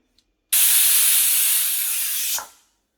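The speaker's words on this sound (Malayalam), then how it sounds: "ഇതിപ്പോൾ വളരെ പെട്ടെന്നാണ് വിസിൽ വന്നത്" A pressure cooker whistle, cooking chicken liver, blasts suddenly as a loud, sustained hiss of escaping steam for about two seconds, then cuts off and fades.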